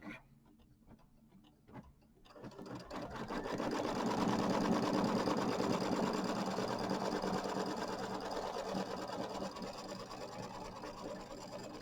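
An embroidery sewing machine stitching a tack-down line on fabric for a mini quilt, a fast, steady rhythmic needle clatter that starts after a few quiet ticks and runs on at moderate level.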